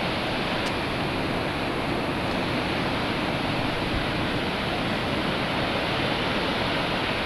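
Atlantic Ocean waves wash onto a beach at Newquay, Cornwall, a broad continuous roar of surf and spray, steady and loud with no voices.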